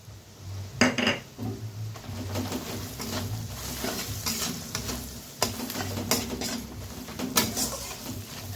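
Fish head curry with lentils, made from a katla head, being stirred in a pan: repeated metal spoon scrapes and clinks over a low simmering sizzle, close by, with no one speaking.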